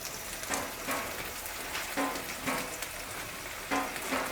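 Flattened rice (poha) is stirred into a hot pan with fried peanuts. It makes a continuous close sizzle and crackle, and louder scraping stirs come every second or so, with no voices.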